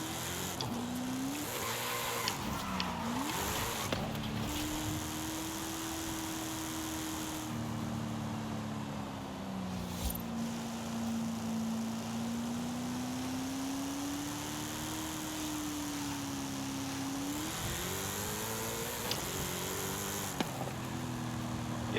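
A drag-tuned Datsun 280Z engine in the video game Forza Horizon 5 hums continuously, rising and falling slightly in pitch as it revs, with a smooth, not very deep tone throughout.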